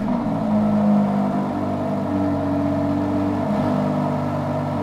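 A modified Aston Martin DBS V12 engine idles with a steady, deep rumble, its pitch shifting slightly as it holds near idle, with no voices.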